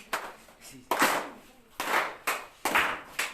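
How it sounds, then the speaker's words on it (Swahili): A church congregation claps hands together in loud, roughly rhythmic bursts, each swell of clapping rising and fading in a steady pulse, with faint voices underneath. "Piga makofi kwanza."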